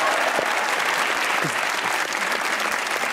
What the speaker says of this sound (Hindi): ऑडियंस में बैठे ताली हो जाइए अपने लिए